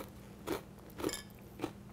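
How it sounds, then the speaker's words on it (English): Three crisp crunchy bites into a pretzel dipped in wasabi and green onion dip, spaced about half a second apart, close and fairly quiet. "Now I'm going to take a taste of the pretzel and the dip."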